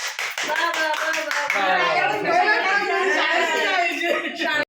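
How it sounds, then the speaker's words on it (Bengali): A group claps hands in a round of applause for a teacher, sustained for several seconds over a lively room with a voice and laughter mixed in. "আমাদের টিচির লাগি একটা জুড়ে হাততালি হয়ে যাক"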